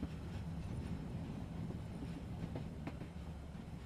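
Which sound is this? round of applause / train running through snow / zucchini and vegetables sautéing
train running through snow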